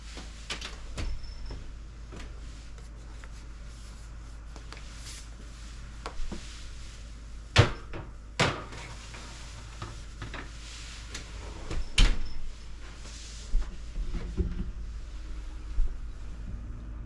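A kitchen oven door, opened to slide in a baking sheet of garden soil for 400-degree baking, makes a series of sharp metallic clanks and thuds, with a louder bang near the middle and further clatter later, over quiet room noise.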